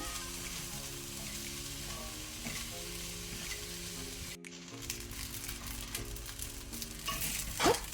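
Mixed vegetable paneer fried rice is tossed and stirred over a high flame, a loud, constant sizzle with rhythmic spatula scrapes, a brief gap midway, then busier clattering near the end, with no talking.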